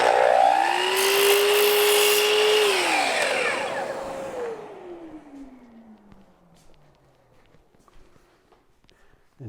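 A miter saw whines up and bites through a wooden lid liner at a miter station, the loud cut lasting a few seconds before the motor spins down and fades to near silence.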